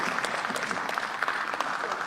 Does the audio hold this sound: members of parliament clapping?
yes